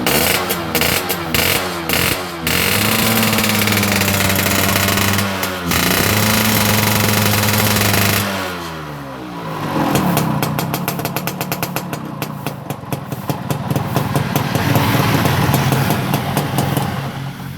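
A Yamaha RX Special motorcycle with an enlarged oil pump runs close by. Its engine throbs loudly and rhythmically at idle, then revs into a harsher, busier rattle that builds toward the end.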